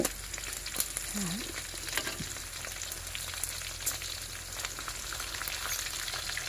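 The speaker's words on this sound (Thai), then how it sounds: "ทอดหมูก่อนนะคะ ตอนนี้" Steady, continuous sizzling of pork frying in a pan, an even crackling hiss throughout with a few brief clinks and no talking.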